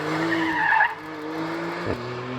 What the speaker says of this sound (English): And that's the Carrera 992. Trying to set the lap time.